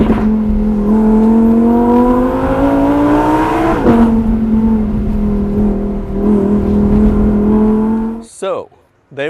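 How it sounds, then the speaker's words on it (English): A Lamborghini Huracan V10 supercar drives past with a loud, steady engine drone that rises in pitch, briefly shifts, then holds before cutting off abruptly near the end. "A final hurrah for Lamborghini's magnificent V10 supercar."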